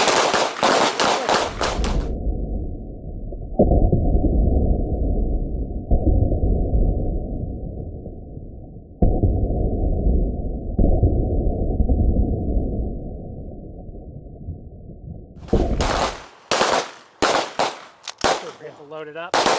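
Handgun shots fired at a target during a combatives class, a handful of sharp reports spaced a second or more apart that come through heavily muffled, as if through ear protection, followed by a short burst of brighter, clearer bangs near the end.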